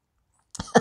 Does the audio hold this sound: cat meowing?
no